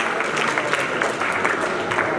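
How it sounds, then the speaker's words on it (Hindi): Students at a school workshop applaud, a dense, continuous patter of many hands clapping close by with a faint murmur of voices underneath. "ताली बजाइए इस बच्चे के लिए।"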